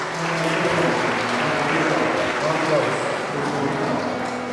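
A church congregation claps together in a steady, sustained round of applause that carries at even loudness from start to finish, with voices mixed in.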